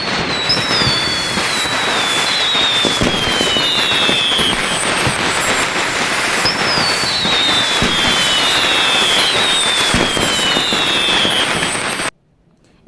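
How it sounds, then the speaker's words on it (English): Firecrackers set off at midnight for Chinese New Year, a loud continuous crackling barrage with dense pops and whistling rockets rising over it, running steadily before cutting off abruptly near the end. "at midnight of the first day of the new year, families set off firecrackers"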